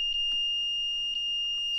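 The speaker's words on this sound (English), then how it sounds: "alarm will go off straight away" An Arduino-built alarm clock going off with a continuous piercing high-pitched electronic tone, loud and steady, with a few faint clicks and no speech.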